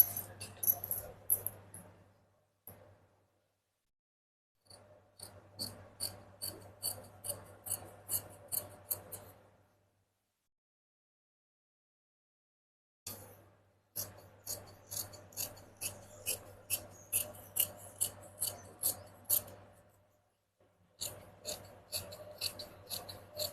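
Scissors cut blouse fabric in bursts of rapid, evenly spaced snips, each run of crisp clicks separated by short silent pauses, close up and quiet.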